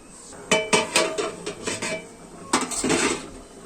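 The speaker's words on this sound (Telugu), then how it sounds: "ఫిష్ కర్రీని మూత పెట్టుకోవాలి" A metal lid is set onto a pot of Nellore-style small-fish curry, giving a run of close clattering clinks and knocks, then a pause and a second burst of metallic rattling.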